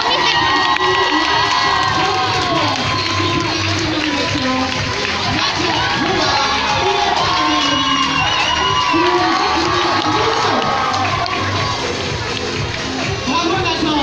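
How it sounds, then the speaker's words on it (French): A large crowd cheers and shouts loudly and continuously, with excited children's voices and whoops, though distinct clapping is hard to pick out. "Et vous pouvez à nouveau applaudir."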